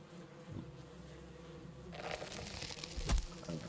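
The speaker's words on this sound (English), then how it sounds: "Let's see if we can shoot the bee hive from in here." Bees buzz near a beehive in the video game Valheim, a soft continuous hum that grows fuller and closer partway through, with a brief thump near the end and no talk.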